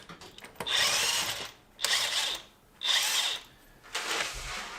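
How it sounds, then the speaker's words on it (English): A DeWalt impact gun removes car wheels in a garage with four loud, close bursts of rattling mechanical hammering, each about a second long, separated by short pauses. "That DeWalt impact gun is actually the tits."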